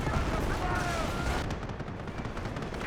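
Battle gunfire in the Company of Heroes 1 video game, dense crackling small-arms and machine-gun bursts mixed with heavy rumbling booms, with someone commentating over it.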